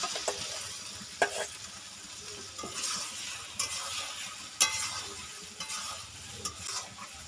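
Marinated potatoes go into sizzling, oil-rich spice masala for a tangy, spicy South Indian yogurt potato curry, with a soft continuous fry under scraping stirs and a few sharp utensil clinks against the pan.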